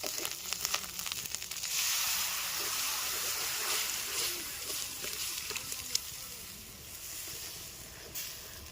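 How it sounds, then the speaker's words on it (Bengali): Ginger paste sizzles in hot oil in a pan while being stirred, a steady bright hiss with occasional scraping and small pops, fairly close and continuous, with no speech. "আর আদা বাটাগুলো নিয়ে নিলাম। এবার নাড়িয়ে নেবো, ঢেলে নেবো।"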